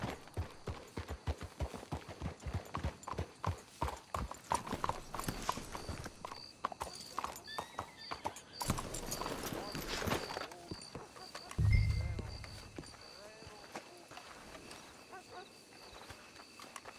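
Horses' hooves clip-clop in Red Dead Redemption 2, a fast, steady run of near hoofbeats that slows and fades, with a brief loud thump partway and quiet ambience after.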